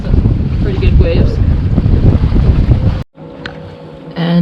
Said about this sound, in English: there's about 20 knots of wind, so there's some potential for some pretty good waves